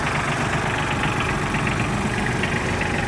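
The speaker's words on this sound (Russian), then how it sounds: "японский мини-трактор, полноприводный трехцилиндровый трактор с козырьком и фрезой" The three-cylinder diesel engine of a Mitsubishi MT16 16-horsepower four-wheel-drive Japanese mini tractor idles steadily with a dense, even rumble and light knocking throughout, close and fairly loud, with no voices.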